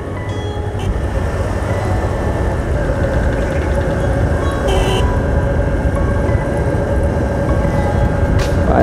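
Steady road noise from the busy Ridinha road in Natal's north zone, with passing vehicles making a continuous, fairly loud rumble and hiss that never lets up, without any talking.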